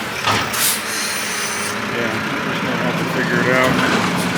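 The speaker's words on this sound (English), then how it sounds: "garbage truck's behind me" A garbage truck idles close behind, its rumbling engine running throughout while air brakes hiss in short bursts, with someone talking over the noise.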